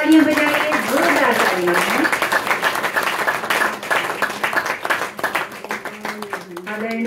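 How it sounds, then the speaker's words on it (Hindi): Loud, sustained applause from a crowd at a Hindi devotional gathering, the clapping continuous throughout while singing and a voice carry over it. "नरहरि भाई साहब को माल्यार्पण करते हुए जोरदार जोरदार तालियां"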